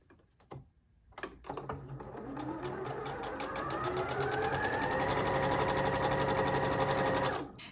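Sewing machine stitching a quilt seam of navy cotton fabric with a quarter-inch presser foot, a short start then a steady, continuous motor whir that rises in pitch and holds loud until it stops abruptly.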